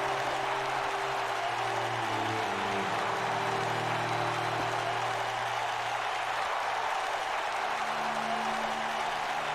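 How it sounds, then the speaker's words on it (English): Wrestling crowd at a Tuesday Night Takedown show cheering and applauding a winner, a dense, steady roar of clapping and shouting that holds throughout, with low tones running beneath it. "the crowd absolutely loves him as he gets his first victory here"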